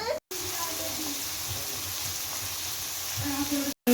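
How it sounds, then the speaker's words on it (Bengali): Bay leaves and dried red chilies sizzling in hot oil as a tempering, a steady close frying hiss throughout with a voice talking faintly underneath. "তারপরে দিল তেজপাতা শুকনো লঙ্কা এগুলো হচ্ছে ফোড়ন"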